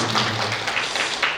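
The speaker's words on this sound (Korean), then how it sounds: "하나님께 감사의 박수 올려드리겠습니다" A church parents' meeting gives a short round of thankful applause, a brief, steady mass of clapping from a room full of people, moderately loud and close.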